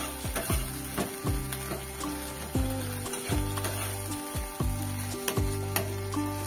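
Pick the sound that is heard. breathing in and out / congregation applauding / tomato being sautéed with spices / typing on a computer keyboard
tomato being sautéed with spices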